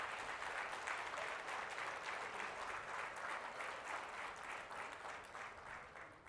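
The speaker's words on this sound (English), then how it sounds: "Please, a round of applause." Sustained applause from a crowd at an awards dinner, steady and full throughout, with dense clapping that tapers only slightly near the end.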